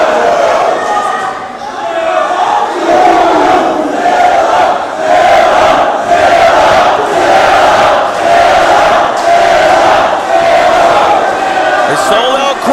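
A sold-out crowd at a Reality of Wrestling live event roars and cheers in a loud, continuous wash, surging in waves for the whole stretch with shouting voices blended in.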